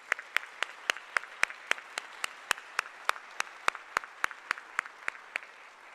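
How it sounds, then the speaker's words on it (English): An audience at a college nursing pinning ceremony applauds scholarship donors, with sharp, evenly spaced claps standing out over a soft bed of clapping that stays steady and moderate in loudness. "please join me in a warm round of applause for our scholarship donors"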